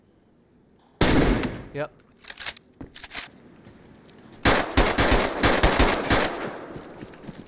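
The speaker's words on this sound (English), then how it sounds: "I'm gonna shoot." Gunfire in the video game DayZ: a loud first shot, then scattered single shots and a dense burst of rapid rounds near the end, with a brief spoken word in between.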